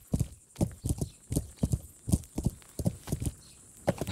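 Horse hooves clip-clop at a steady walking gait while riding on a dark night in the medieval game Kingdom Come: Deliverance, about a dozen clear, close thuds with no talk over them.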